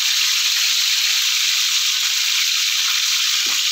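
Cauliflower frying in oil in a pan with salt and turmeric, a steady bright hiss of sizzling throughout with a faint low thump near the end.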